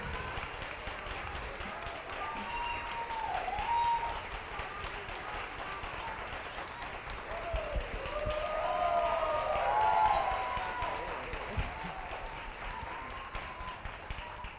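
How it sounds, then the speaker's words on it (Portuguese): Sustained audience applause at a literary festival panel fills the hall, a dense even clatter of many hands swelling around the middle before easing, moderately loud with no talk over it. "Muitos aplausos para Loed Luna."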